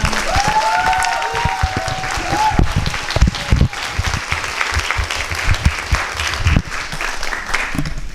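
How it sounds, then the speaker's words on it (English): Warm applause fills the hall for Odissi dancer Ankita at the close of her Mancha Pravesha debut recital, a sustained crowd of clapping hands with a few louder close claps standing out. "A final round of applause for Ankita."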